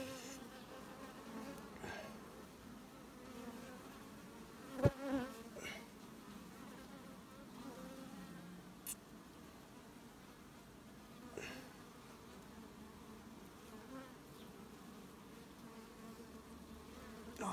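Honeybees swarm a sunflower-honey hive as frames are pulled for extraction, a faint continuous buzzing drone throughout with occasional louder passes of bees close by and a few soft handling knocks.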